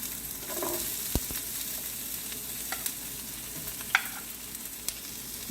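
Onions sauté in a pan for chilli paneer with a soft continuous sizzle. A few sharp clicks and taps of a utensil against the pan break through it, and no one speaks.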